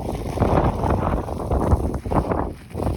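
Steady gusting wind with snow buffets the microphone beside a greenhouse, low rumbling and rushing noise, continuous and close, with no voices.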